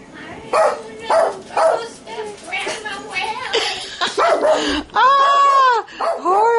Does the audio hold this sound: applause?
no